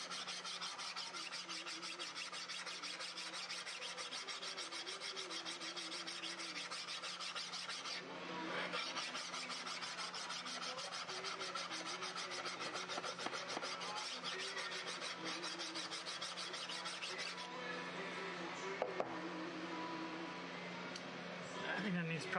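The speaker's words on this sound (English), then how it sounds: "I can sand the bevel without having to have my sanding stick at too much of an angle" A wooden bevel is hand-sanded with a sanding stick, giving a steady rasping scrape of repeated strokes that runs continuously through the clip with a brief change near the middle.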